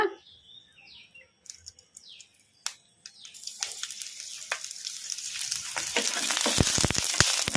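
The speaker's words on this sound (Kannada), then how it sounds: "ಈಗ ಇದಕ್ಕೆ 1 ಸ್ಪೂನ್ ಎಣ್ಣೆ ಹಾಕಿ ಫ್ರೈ ಮಾಡ್ಕೊಂಬಿಡೋಣ" Green chilies frying in a spoon of oil on a medium flame for a greens chutney: after a quiet start with faint birdsong, a close crackling sizzle builds and grows louder, with scattered pops and stirring clicks.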